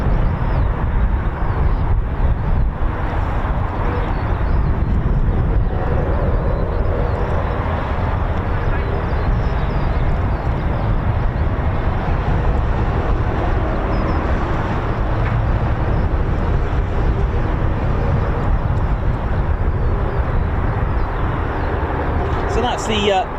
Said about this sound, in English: So that's the Beechcraft Shadow there that you can see.